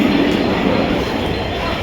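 A crowded Mumbai local train runs along, giving a loud, steady rumble and rattle heard from inside the carriage, with no breaks for the whole stretch.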